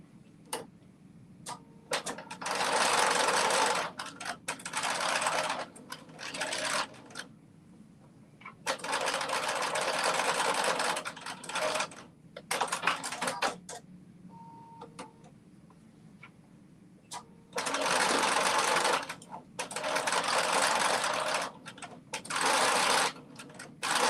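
A domestic sewing machine stitches the corners of a quilt block in loud, rapid bursts of a few seconds each, separated by pauses filled with light clicks and handling of fabric.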